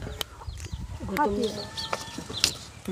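Chickens cluck and chatter nearby in a busy farmyard, with short bird calls overlapping amid background noise and faint voices.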